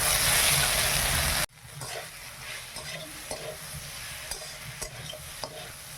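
A paste of ground chili, mustard and cumin hits a hot pan with a loud sizzle, then settles into steady frying with intermittent scraping and stirring clicks close by.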